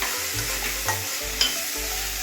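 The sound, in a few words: ginger, onion and garlic frying in a pan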